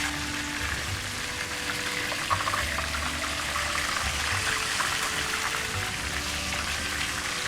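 Fish sizzles and crackles steadily in hot oil while being fried golden for a biryani, a continuous dense frying hiss close by with no talk.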